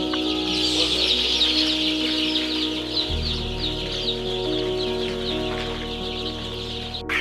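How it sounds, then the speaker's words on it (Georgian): Many 22-day-old broiler chicks peep constantly in a dense, high chorus, with hens clucking nearby and a steady mechanical hum underneath. "ესენი არის ბროილერის ჯიშის სახორცე წიწილები."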